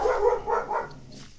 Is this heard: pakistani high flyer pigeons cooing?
no